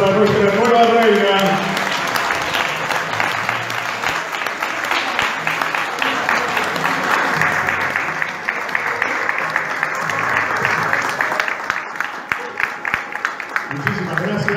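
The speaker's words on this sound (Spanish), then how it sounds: "Fuerte el aplauso para nuestra nueva reina." Audience applause for a newly crowned pageant queen, loud sustained clapping from a crowd that swells and fades over several seconds while a voice speaks over it.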